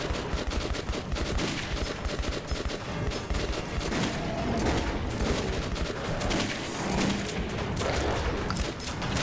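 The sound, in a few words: gunfire in the video game Metro 2033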